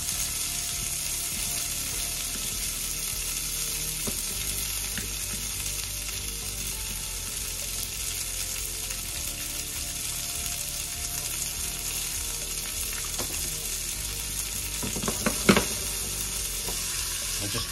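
Fiddlehead ferns fry in a pan over medium-high heat, a steady broadband sizzle running throughout with a few brief clinks and scrapes near the end.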